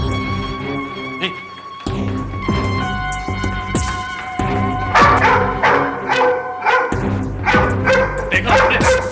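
Dog barking and yipping in short repeated bursts, loud and close, mixed with dramatic background music and a little talk.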